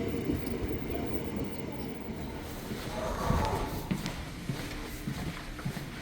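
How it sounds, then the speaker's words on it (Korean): A Nuriro passenger train on the Korean Donghae line, running from Gangneung to Dongdaegu, pulls into a station with a steady low rumble and rolling wheel noise, moderately loud, plus a few faint squeals and clanks. "지금 들어오는 열차는 강릉에서 출발해서 동대구까지 가는 누리로 열차인데요."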